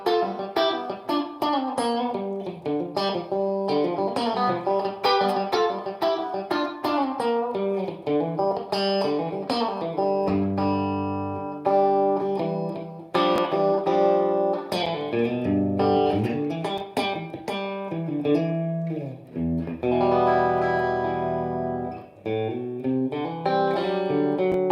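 Strat-style electric guitar played on the back two pickups through a tube amp with reverb, ringing chords and single-note lines sounding continuously up close and alone, with some sustained lower notes partway through.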